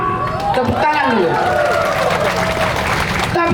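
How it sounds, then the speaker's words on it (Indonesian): Audience applause and cheering break out at a volunteer declaration rally for Jangkar in West Papua, a loud, dense crowd sound with voices mixed throughout, filling the whole stretch without pause. "Tepuk tangan dulu."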